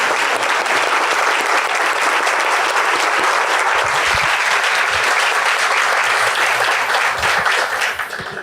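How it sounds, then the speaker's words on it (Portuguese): Audience applause fills the hall after a talk at a Sempre Um Papo event, a dense, steady wash of clapping that holds loud for about eight seconds before beginning to fade. "A plateia bate palmas."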